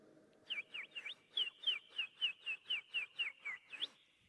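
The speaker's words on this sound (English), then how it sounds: "No sound is heard, save chirping sparrows." A sparrow chirps in a steady run of about a dozen thin, repeated notes, faint and alone against quiet surroundings.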